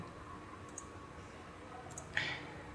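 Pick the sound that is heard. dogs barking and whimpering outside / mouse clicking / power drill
mouse clicking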